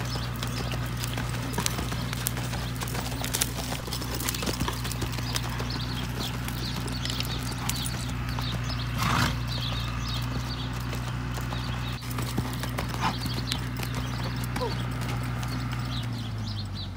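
Horse hooves clip-clopping in a steady rhythm during a barrel racing ride, continuous and fairly close, over a low droning hum, with a person talking throughout.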